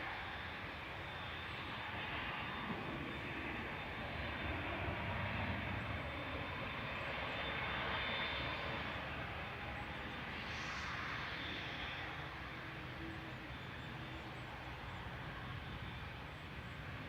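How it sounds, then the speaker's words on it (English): A TUI Fly Nordic Boeing 787-9 leaves Manchester Airport for Cancun as a faint, distant, steady jet rumble that swells gently in the middle, heard alone without talk. "Heading over to Cancun next is TUI Fly Nordic operating for TUI UK with flight 154."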